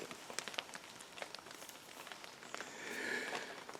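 Light rain falls in the woods, a soft, steady patter of scattered drops on leaves and surfaces. It stays faint and continuous, with no voices, and a gentle swell comes toward the end.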